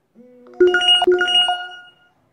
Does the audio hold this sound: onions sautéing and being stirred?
no